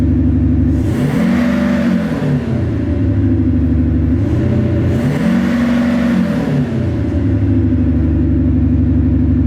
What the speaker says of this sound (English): You can hear how much louder it is than the normal diesel.